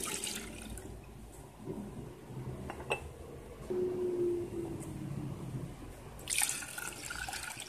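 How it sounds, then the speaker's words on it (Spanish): Two cups of milk poured into a small pot in a home kitchen, a soft liquid trickle and splash with light clinks of cookware, quiet and close. "vamos a echar las 2 tazas de leche que vamos a estar ocupando"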